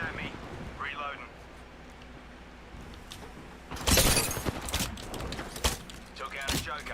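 Enemy gunfire in the video game Apex Legends sounds as bursts of sharp, crackling shots midway through, layered over quieter game ambience.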